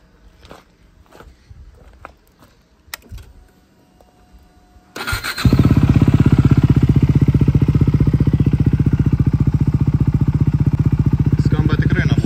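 A 2020 KTM RC 390 single-cylinder motorcycle engine fires up after quiet handling noises and footsteps, then idles loud and steady with a rapid, even throbbing pulse close by.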